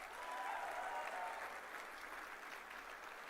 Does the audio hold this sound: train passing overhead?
no